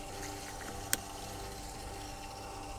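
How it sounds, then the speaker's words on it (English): Pure water runs steadily from a MacRo purification unit into a 1 litre container, a soft, even trickle and hiss with one brief knock partway through. "time it to see how quickly we can fill up the 1 litre vessel coming out of this MacRo unit"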